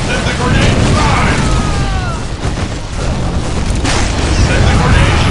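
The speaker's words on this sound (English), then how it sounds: "Let the grenade fly!" A grenade blast in the Dawn of War strategy game, a loud boom amid dense battle noise that stays loud throughout, with voices over the din.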